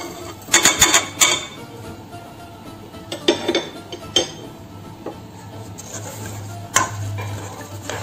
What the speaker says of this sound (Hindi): अब हम इसमें अपने चने डाल देंगे। अब हम इसमें अपने स्पाइसेस डाल देंगे सारे